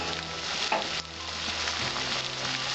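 Raw chicken pieces hit a hot pan and fry with a loud, dense sizzle, broken by a brief clatter as they are stirred, then settling into steady crackling.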